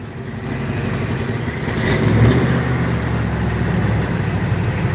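An old V8 vehicle engine rumbles steadily close by, swelling briefly as the gas is pressed and then settling back into a rough, even run, with no voices.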